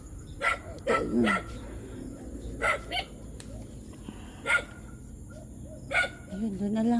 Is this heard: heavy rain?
no